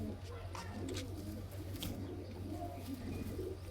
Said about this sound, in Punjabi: ਇਹ ਹੈ ਬਾ ਆਪਣਾ ਵੱਡਾ ਕਬੂਤਰ